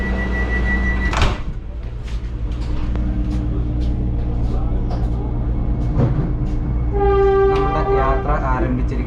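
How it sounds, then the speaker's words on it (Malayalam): Vande Bharat Express train pulling out of Kasaragod station, with a steady low rumble and hum throughout, a sharp bang early on and a tonal horn-like sound near the end. "നമ്മുടെ കാസർഗോഡ് നിന്ന് വന്ദേ ഭാരത് ട്രെയിൻ പുറപ്പെട്ടിരിക്കുകയാണ്"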